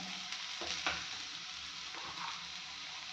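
Spices going into hot oil in a pan, a steady quiet sizzle with a few soft stirring scrapes and taps, close and alone.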